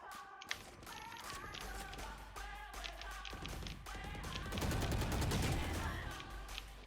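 Rapid bursts of gunfire in the tactical shooter Valorant ring out over game music and effects, swelling into a louder, denser volley near the end.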